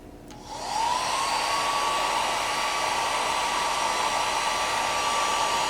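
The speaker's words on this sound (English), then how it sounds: "Okay, let's test this mini hair dryer." A mini 800-watt hair dryer switches on and runs steadily on its first speed, a loud, continuous whoosh of blowing air with a faint whine, heard close up with no talking.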